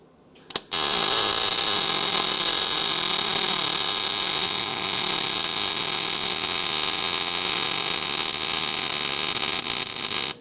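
MIG welding on rusty car body sheet metal of a crew cab Charger project, a steady close crackling buzz that runs without a break for about ten seconds after a short start.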